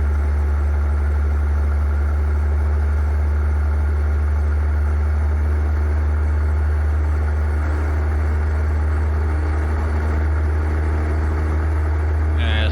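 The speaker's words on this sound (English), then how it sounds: "If you don't like the engine sounds that come with this truck," Peterbilt 281/351 wrecker truck engine idling in American Truck Simulator, a steady low rumbling drone held evenly throughout with a constant hum and no change in pitch.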